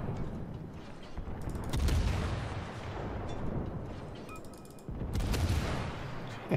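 Naval gunfire in the video game World of Warships, rumbling booms of heavy guns in rolling, overlapping volleys with deep low thuds and dense crackle, loud and continuous throughout.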